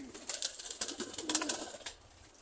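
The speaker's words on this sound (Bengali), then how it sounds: "এই যে দেখুন, কবুতর কিন্তু খাচ্ছে।" Pigeons coo softly and repeatedly while feeding on cauliflower and cabbage scraps alongside chickens, a close run of short rhythmic calls over a faint high electronic whine, with no talking.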